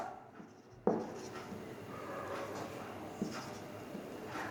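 A teacher writes on the board during a physics lecture: faint, quiet scratching strokes come after a sharp tap, spread unevenly over a few seconds in a calm room.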